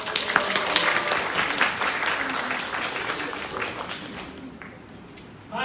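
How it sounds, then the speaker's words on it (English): Audience applause at a school event's opening, a dense sustained clapping from a full room that stays loud for several seconds, then thins and fades toward the end. "And please, Ali, round of applause."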